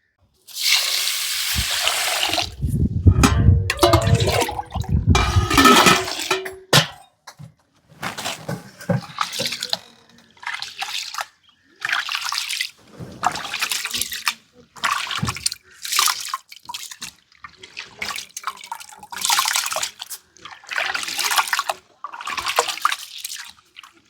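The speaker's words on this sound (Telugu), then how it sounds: "ఇసురు కాగేలోపు బియ్యాన్ని కడిగి నానబెట్టుకుంటాను" Rice being washed in a pot of water for prawn pulao, with sloshing, rinsing and dripping bursts that come in a rough rhythm of repeated scoops and pours, fairly close and moderately loud, with no talk.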